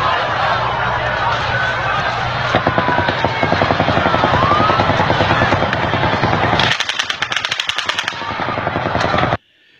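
Automatic gunfire during the Las Vegas Mandalay Bay shooting, loud rapid bursts of shots with echoes off the hotel and nearby structures over a dense crowd-and-traffic roar, ending in a sharper, crackling final burst.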